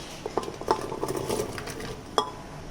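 Chopped shallots, beans and carrot rounds dropped into a pressure cooker, giving several sharp metallic clinks and clatters close by, with light rattling in between.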